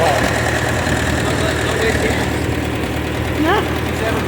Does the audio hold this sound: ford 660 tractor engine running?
yes